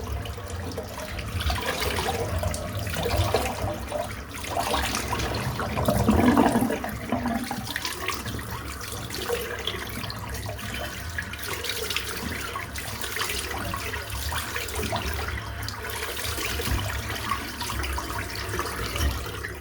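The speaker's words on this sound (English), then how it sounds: "Let me just rinse off." Water running steadily while rinsing off a freshly shaved head, a continuous close splashing flow lasting the whole stretch with no talk.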